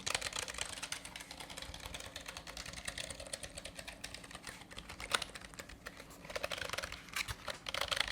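Steady clatter of keys being typed quickly on a computer keyboard, close and fairly quiet, with no voices.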